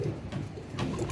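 Pigeons cooing at a Bangladeshi pigeon farm, soft low rounded coos rising twice over a steady murmuring background, close and moderately quiet.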